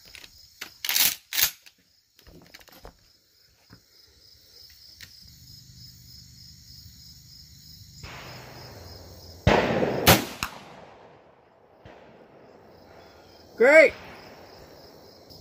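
A 12 gauge shotgun fires 1¼-ounce Magnum rifled slugs from 2¾-inch shells at a target range: a few sharp, loud reports, with a brief ringing impact later. Someone speaks briefly.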